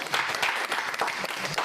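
Members of a film crew clap together for an actor at the end of a shoot, giving a short burst of lively, close applause with uneven individual claps and a faint voice underneath.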